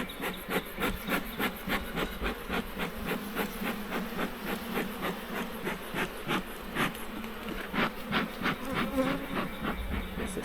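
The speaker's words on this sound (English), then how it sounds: "This is super aggressive hive." Bees from an aggressive beehive buzz in a thick, continuous drone, close and steady throughout, with a pulsing, throbbing texture and no talk over it.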